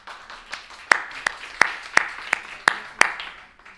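Sparse applause follows a speech at a UN hepatitis event, about eight distinct, sharp claps standing out over a soft background patter, fading near the end.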